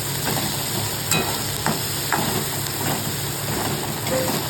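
Chopped onion frying in oil for kande pohe, a constant moderate sizzle and hiss with several brief clinks and scrapes from stirring spread through it.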